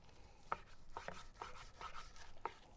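A knife slices through the point of a smoked backyard brisket, cutting across a grain that runs a different direction: soft, quiet, irregular cuts and scrapes, about five distinct strokes over a few seconds.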